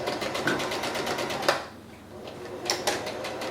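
A sewing machine stitches over seams in a rapid mechanical rhythm, pausing briefly midway before running again, close and steady.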